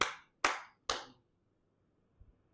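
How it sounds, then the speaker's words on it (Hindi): Three sharp, evenly spaced hand claps ring out close and alone, each with a short decay, followed by a faint small knock and then quiet. "तो श्रीवास पंडित ने 3 ताली बजाई"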